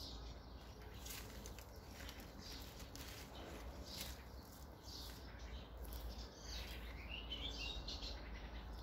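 Small birds in a rose garden chirp and tweet in short bursts, some high twittering calls coming through a steady outdoor background hum.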